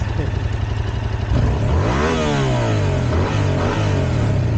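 A two-cylinder motorcycle engine idles with a rapid low pulse, then revs up hard with a rising whine that falls back and revs again, loud and close.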